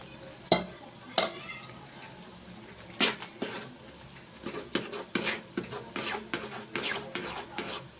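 Peas stirred into curry in a pan, a spoon scraping and rasping against the metal in repeated close strokes, a few sharp knocks early on, then a quicker steady rhythm, no talk.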